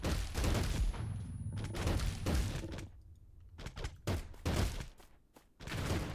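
Defense and sniper towers firing in the survival tower-defense game Signal Zone, with repeated loud bursts of gunfire in clustered volleys separated by brief lulls, alongside rocket launcher fire.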